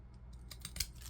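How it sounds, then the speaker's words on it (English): Fiskars paper-edge scissors snip through paper in a few quiet, close, crisp cuts over a low background hum. "So we're just going to cut this"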